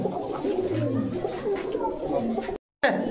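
Pigeons coo repeatedly at a pigeon seller's shop in Bogura, soft, throaty rolling calls close by that continue under people talking, with a brief cut to silence near the end.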